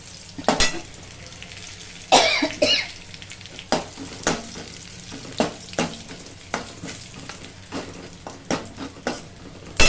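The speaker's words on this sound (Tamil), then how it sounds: "பூண்டு நல்லா செவக்கட்டும் செவந்து தான் கருவேப்பிலை போடணும்" Garlic fries in hot oil until browned, a continuous close sizzle broken by repeated scraping and clattering stirs against the pan.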